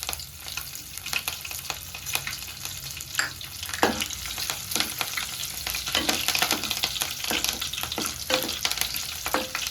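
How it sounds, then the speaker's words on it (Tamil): Green chillies and curry leaves crackle and sizzle loudly in hot oil for a restaurant-style prawn gravy. A bright, continuous spitting hiss runs throughout, broken by sharp pops and bursts of stirring. "நாம இப்போ பச்சை மிளகாயும் கருவேப்பிலையும் போட்டுக்கலாம்"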